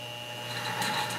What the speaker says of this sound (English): Now the mini mill on low RPM,